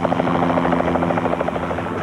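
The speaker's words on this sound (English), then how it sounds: "remind the other officer there that their helicopter's flying around" A news media helicopter flies overhead with a steady, loud rotor chop and a droning engine hum, heard alone without talk.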